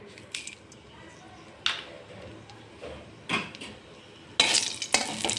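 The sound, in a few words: cumin and dried chili tempering sizzling in mustard oil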